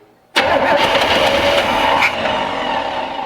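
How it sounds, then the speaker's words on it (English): A 1965 Chevrolet C10 pickup engine turns over and catches abruptly after a quiet moment, then runs loud and rough close by with a continuous mechanical roar. "Let's crank this thing over a little"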